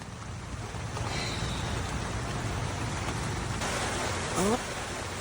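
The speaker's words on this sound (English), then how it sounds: "It's raining a little bit harder now." Steady rain falls at a North Carolina flower farm among geraniums and pelargoniums, a continuous broadband hiss with a brief louder patter near the end, loud and close.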